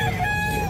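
Chickens and roosters at a poultry and pet market in Bocaue, a dense, continuous din of clucking and crowing from many birds close by, with market noise underneath.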